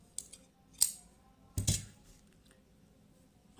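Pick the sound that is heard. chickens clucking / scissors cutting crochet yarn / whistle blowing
scissors cutting crochet yarn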